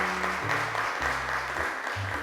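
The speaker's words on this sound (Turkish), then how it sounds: "Onu alkışlarla yerine uğurluyoruz." Studio audience applause on a children's television show rewards a child after a recitation, a loud, continuous wash of clapping with low tonal hum underneath.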